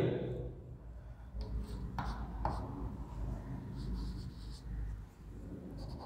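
Writing on a board during a chemistry lesson, soft scratchy strokes and a few taps heard close up over a low room rumble and background noise, with no speech over it.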